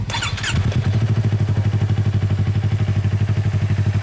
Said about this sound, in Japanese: エンジン起動してもらえる